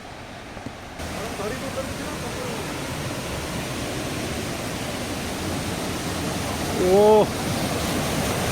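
Daringbadi waterfall near Patabandha gives off a constant broadband rush of falling water, loud and steady throughout, with a voice speaking briefly over it.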